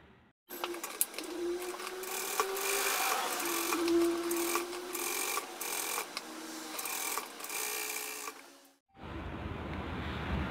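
A sewing machine stitches lining material to fabric in a close, steady run of rapid needle clatter lasting several seconds, briefly pausing, then stopping abruptly before quieter handling noise.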